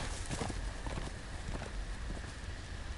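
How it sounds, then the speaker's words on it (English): Horse hooves clip-clop at a run in a Game of Thrones video game, a quick rhythmic patter of hoofbeats over a steady hissing, rain-like background. "let the horse run off"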